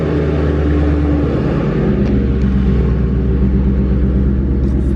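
A car engine, heard from inside the cabin of a premium car with leather seats, makes a loud, deep, steady rumble with a rhythmic idle pulse that holds throughout.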